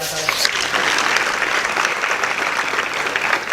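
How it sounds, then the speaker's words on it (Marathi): Audience at a Marathi devotional talk applauding, a dense, steady clapping that fills the whole stretch at close range with no pauses. "जाऊ द्या वाजवा एकदा टाळ्या"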